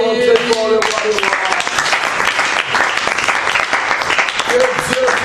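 A church congregation claps loudly in sustained applause at a worship service, a continuous dense patter with voices or singing heard briefly at the start and end.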